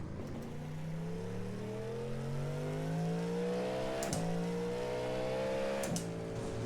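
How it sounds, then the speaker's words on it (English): A Cadillac GT race car in the iRacing game accelerates on track, its engine pitch climbing steadily through the gears with sharp shift breaks, loud and continuous without speech. "let's head out on track here"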